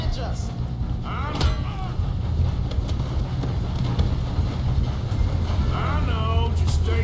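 A moving train in Red Dead Redemption 2, a steady low rumble and rattle of the cars running throughout, with clopping hooves and voices talking over it.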